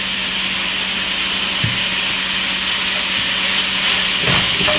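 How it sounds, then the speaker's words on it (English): Potatoes go into a hot pot of Toscana soup, with a loud continuous sizzling hiss and a couple of soft thuds as the pieces drop and settle. "So we're going to add our potatoes in."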